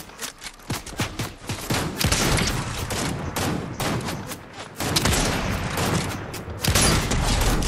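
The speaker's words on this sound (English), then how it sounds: "somebody shooting me" Dense, rapid gunfire in Fortnite, overlapping bursts and single shots with booming impacts, loud and continuous, with a voice faintly underneath.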